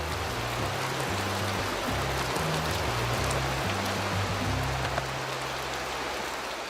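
Heavy rain pours down in a steady, loud wash over open wild country, with a low rumbling undertone beneath the dense hiss.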